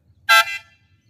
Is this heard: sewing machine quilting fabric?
no